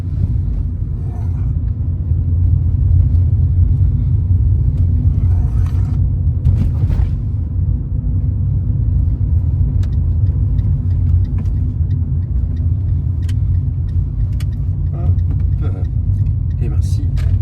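A Fiat 500 on a road test drive rumbles steadily from inside the cabin, with low engine and road noise throughout and someone talking over it.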